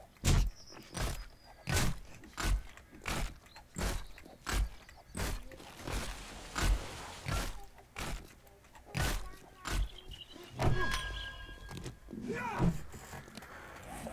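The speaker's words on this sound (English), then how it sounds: "I got the sound of like the invincible block." Repeated tool strikes on an unbreakable block in 7 Days to Die with the Age of Oblivion mod, a steady series of sharp thuds roughly every half second, with talking over some of the hits.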